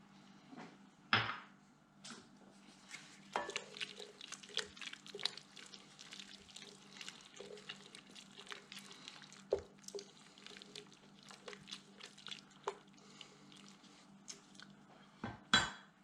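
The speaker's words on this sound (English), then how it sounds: "Now we're going to add the tomatoes. And some fresh coriander." Tomatoes and fresh coriander go into a cooking pot, bringing close, scattered clinks of utensil against pot, light splashes and a few sharp knocks spread unevenly, with no one speaking.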